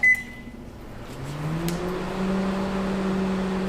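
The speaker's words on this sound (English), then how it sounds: "So we'll put this bowl into the microwave" A microwave oven hums steadily after a short beep, its low drone rising slightly in pitch and holding constant.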